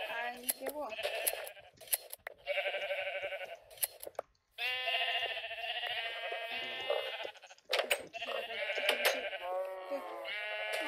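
Sheep in a video game bleat over and over, with overlapping wavering calls filling nearly the whole stretch, and a short pause near the middle.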